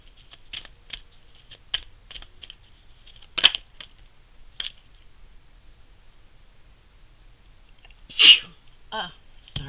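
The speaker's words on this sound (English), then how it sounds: "Sorry, I felt that sneeze coming on." A single loud, sharp sneeze bursts out near the end, preceded by scattered light clicks and taps in an otherwise quiet room.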